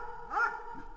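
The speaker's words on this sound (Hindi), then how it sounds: "खिड़की के उस पार कुत्ते भौंक रहे हैं" Dogs barking outside a window at night, a single short bark rising near the middle, moderately distant and faint over a quiet background.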